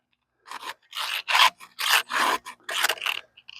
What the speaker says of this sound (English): And then just file the tooth over to 10.